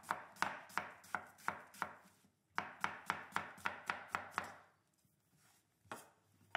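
A knife thinly slices an onion on a cutting board for onion soup, producing quick, regular crisp chops in two bursts of about a dozen strokes each, close up, followed by a few scattered knocks.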